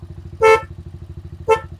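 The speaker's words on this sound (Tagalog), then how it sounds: "May busina pa tayo kasayan na." Two quick toots of a motorcycle horn, about a second apart, sounding over a close, chugging idle engine.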